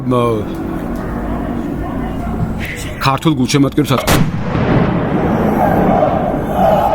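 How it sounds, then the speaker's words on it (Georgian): A sharp, loud burst of blasts, several in quick succession, rises over the steady roar of a large crowd in a football stadium during a Saburtalo versus Torpedo match in Georgia. "აფეთქების ხმა რომ შეიძლება თქვენ შეგეშინდათ"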